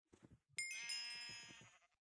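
In the video game Sheep Quest, a single sustained sheep bleat rises sharply and sounds alone for over a second, with soft low thumping game sounds before and around it.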